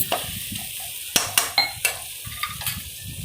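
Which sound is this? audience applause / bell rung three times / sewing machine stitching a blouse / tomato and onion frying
tomato and onion frying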